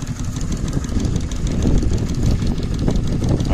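A Case steam tractor engine runs hot and close, giving a steady, loud rumbling chug with a continuous low churn and no voices over it.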